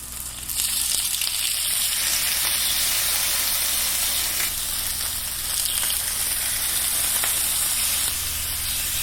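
Marinated tofu sizzling on a grill, a loud, steady frying hiss that fills the whole stretch with little change, close, with no voices over it.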